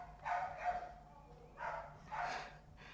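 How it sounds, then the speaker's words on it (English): Excited puppies bark at the mail's arrival, with several sharp bursts in quick succession and a pause, fairly close and with no talking. "So my puppies are freaking out. I think the mail came."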